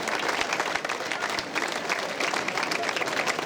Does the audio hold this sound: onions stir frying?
no